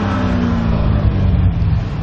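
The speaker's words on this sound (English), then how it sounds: "I'll even just give the gas a couple of revs so you can hear how wonderful that engine sounds." A 2009 Chevrolet Corvette Z06 engine running loud and close, a deep, steady growl with slight rises in pitch as the throttle is blipped, with no talking.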